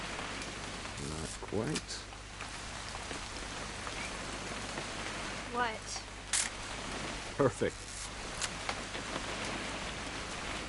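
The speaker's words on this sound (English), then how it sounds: "It's gonna rain the whole weekend, isn't it?" Steady rain patters throughout a scene in the video game What Remains of Edith Finch, a soft continuous hiss with occasional sharper clicks, while people talk briefly over it.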